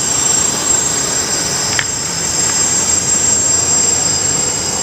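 An ArduCopter multicopter drone hovers close to the ground, giving a loud, steady whine of spinning propellers and motors that stays constant throughout.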